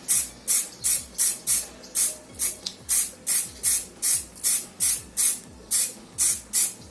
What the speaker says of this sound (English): shake very well the spray, okay, like this, and start to spray